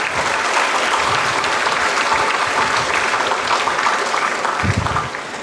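A large hall of college freshers at an induction program applauds continuously, a loud, dense roar of clapping that holds evenly for several seconds before thinning out slightly at the end.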